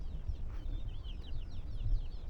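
Burmese fighting-breed roosters cluck and call in a farmyard, a few short faint calls over low steady rumbling background noise.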